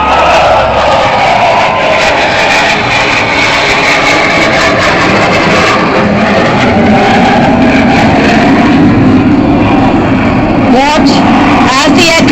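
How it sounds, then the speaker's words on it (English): A turboprop aircraft flies aerobatics, including hesitation rolls, at an airshow in Chandigarh. A steady, loud engine drone carries on throughout, with a busy crowd and a commentator's voice over it. "Turboprop engines allow it to operate in a wide altitude band while giving it incredible endurance."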